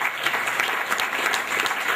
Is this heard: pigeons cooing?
no